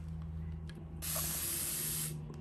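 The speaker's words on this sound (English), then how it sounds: "and then it continues to spray." A spray bottle mists water into a bedroom to add humidity. After a second of quiet room tone, it releases a sudden, continuous hiss that lasts about a second and then cuts off.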